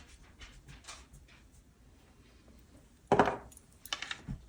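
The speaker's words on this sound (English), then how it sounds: "So they're in this room with me, 3 large dogs." Three large dogs whimpering and panting in a room nearby, with quiet rustling, then a sharp close burst around the three-second mark and a few more short whines toward the end.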